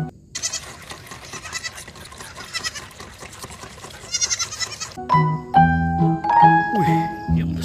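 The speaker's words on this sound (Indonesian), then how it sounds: "Wow, kambing" A goat bleats in a series of close, wavering calls, followed by bright tonal music with a plucked, melodic character.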